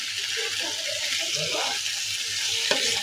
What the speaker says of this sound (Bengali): এখন আমি শুটকিটা দিয়ে এই এক ভাগ রান্না করে নেব লতি শুকি